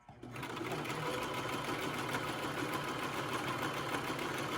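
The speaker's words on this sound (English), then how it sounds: "learning how to sew" A sewing machine stitching fabric during a child's beginner sewing session, a fast continuous mechanical whir and needle chatter close up that starts abruptly and runs steadily throughout.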